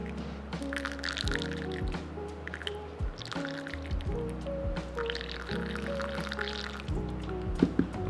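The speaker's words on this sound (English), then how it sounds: "We are pouring at breaking stream." Hot water is poured slowly in a thin stream over coffee grounds, making a close, continuous trickle with gurgling drips and small splashes throughout.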